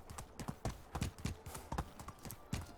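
Horse hooves clip-clop at a steady walking rhythm in the medieval game Medieval Dynasty, close and fairly quiet, with soft background ambience.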